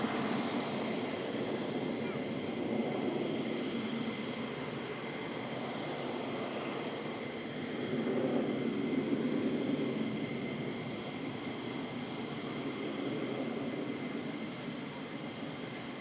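F-15 fighter jets fly at RAF Lakenheath air base, giving a steady, distant broadband roar that swells slightly midway and keeps going throughout.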